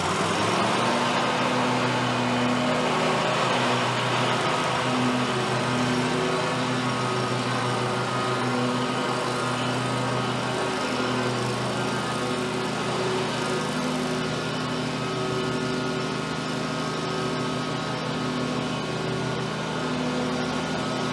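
Lawn mower engine running steadily while cutting a dried-out yard, a constant droning hum with a buzzing harmonic tone that holds at an even, fairly loud level for the full twenty seconds, no speech.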